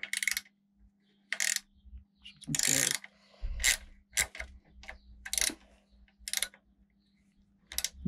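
Ratcheting clicks and short metallic bursts come in irregular bursts as a part is tightened on a "champion du monde" city bicycle under restoration, close and fairly quiet over a low steady hum.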